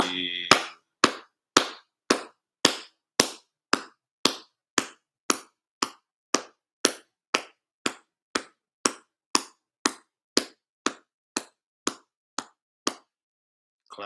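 About two dozen evenly spaced, sharp group claps ring out in a slow, steady rhythm, each one crisp and close with brief silence between. A short vocal bit comes at the start.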